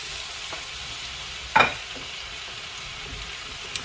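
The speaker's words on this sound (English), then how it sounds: "Now to this we're going to go ahead and add our sliced onions." Sliced onions hit hot oil with whole spices in a 16-quart All-Clad stainless steel rondelle, giving one sharp, close sizzling burst that settles into a faint, steady frying hiss.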